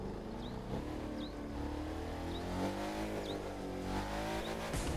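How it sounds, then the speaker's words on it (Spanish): A steady, droning Volkswagen Touareg engine in the video game The Crew 2 hums continuously at a constant pitch, loud and close, with faint short chirps recurring in the background. "Suena muy bien ¿eh? el coche, te lo juro,"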